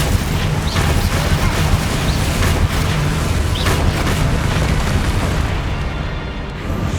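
Heavy explosive booms from the Bombarda spell in Hogwarts Legacy fill the space in a dense, loud, continuous roar of blasts, fading slightly at the end.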